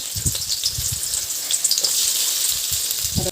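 Onions fry in a pan for a cauliflower and dried prawn curry, giving a steady bright sizzle with crackling spatter, over occasional low clinks and stirring knocks close by.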